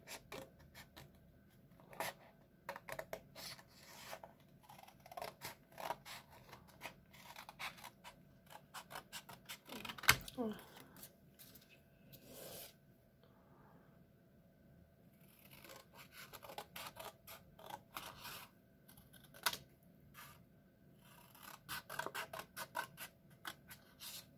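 Scissors snip through two stacked sheets of paper, giving faint, close, irregular crisp cuts and small creaks in a quiet room, with no voices.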